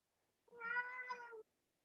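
A pet cat meows once, close and fairly soft, a single drawn-out cry just under a second long in an otherwise quiet room.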